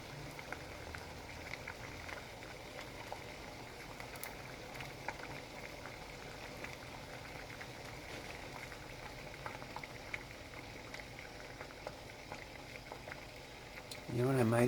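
Candy pieces heat in a pan, giving a steady, soft bubbling and hissing of boiling sugar and steam that runs unbroken, with a louder burst near the end.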